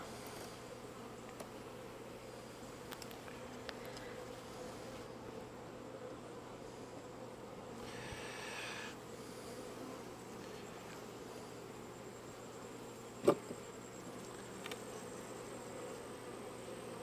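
Honeybees buzzing steadily around an opened hive during an inspection, a soft continuous hum close by with a few brief louder knocks and no speech.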